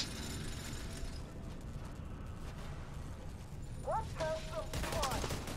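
Video game gunfire crackles in dense, continuous bursts against a busy battle din of mechanical clatter and booms, steady and fairly loud throughout, while players talk over it.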